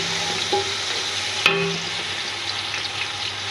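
Steady sizzling of garlic and ginger frying in a pan, with a brief clink of a utensil partway through and a low hum underneath.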